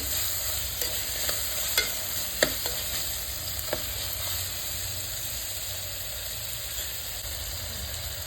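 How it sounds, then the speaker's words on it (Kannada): Potatoes fry in oil in a pan with a constant, fairly even hiss and sizzle, and a few faint stirring clicks come early on. No one speaks. "ಆಲೂಗೆಡ್ಡೆ ಎಣ್ಣೆ ಸ್ವಲ್ಪ ಚೆನ್ನಾಗಿ ಫ್ರೈ ಆಗಬೇಕು"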